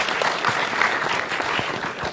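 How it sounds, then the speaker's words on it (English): A round of applause from an audience at a talk event on anxiety, dense overlapping clapping from a full room, steady and close for about two seconds. "I think another round of applause here."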